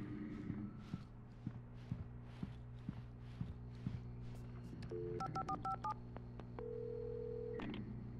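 In the video game Alan Wake Remastered, footsteps thud in a steady rhythm, then a quick run of telephone keypad tones beeps out, followed by a sustained ringing tone.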